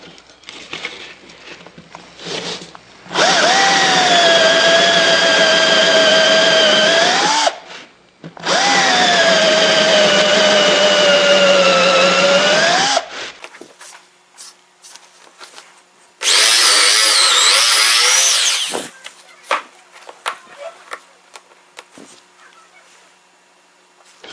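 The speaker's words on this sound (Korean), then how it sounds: "한번 뚫어보겠습니다." A power drill bores dowel holes into wood to a set depth, with two long loud whining runs of about four to five seconds each, then a shorter high-pitched burst, separated by quieter handling clatter.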